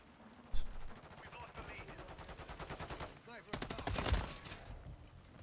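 Rapid bursts of gunfire from Call of Duty, sharp repeated shots and a loud clattering volley, with game sounds between them.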